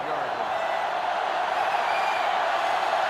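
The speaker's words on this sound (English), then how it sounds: "This sellout crowd is really making a difference now as these guys can't even call the play" A sellout stadium crowd roars without pause in NCAA Football 2005 during a Florida versus Penn State game, a dense, steady wash of noise that stays loud for the whole stretch.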